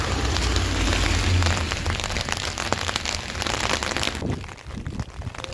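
Rain falls steadily outdoors in a Dutch village, a dense patter of drops on surfaces, fairly loud and close, with no voices.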